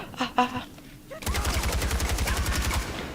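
Rapid sniper and automatic gunfire in the Far Cry 4 video game, loud close bursts of evenly spaced shots following a brief stretch of speech, continuing steadily to the end.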